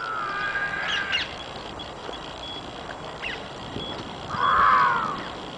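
Birds, likely crows, call outdoors during a downhill ride, with a sustained tonal cry at the start and a louder caw-like call near the end over steady wind and motion noise.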